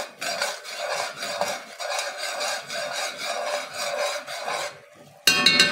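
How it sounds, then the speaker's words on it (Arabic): Indomie noodles with their spices are stirred in a pot, giving rhythmic scraping and rubbing strokes of a utensil against the pan, close and steady. A brief sharper clatter follows near the end. "قاعد نقلب الأندومي وكل البهارات."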